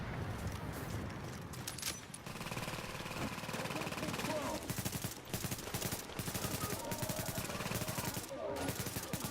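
Rapid gunfire bursts and single shots from the video game The Division, dense and loud with machine-gun-like rattles, while a player talks over the action in German.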